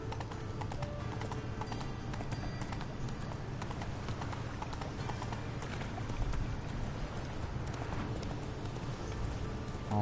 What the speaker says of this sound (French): On va y aller plus rapide avec le cheval.